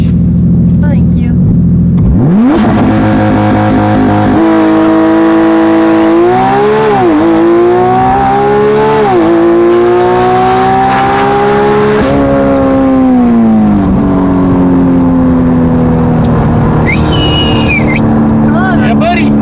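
A loud Porsche 911 GT3 RS engine revs hard at launch, its pitch climbing and dropping through several sharp surges before settling into a steady high drone, with people talking over it near the end.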